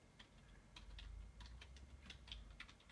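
Fingers tapping on a computer keyboard in a quick, uneven run of light clicks over a faint low hum, close but quiet, with no talking.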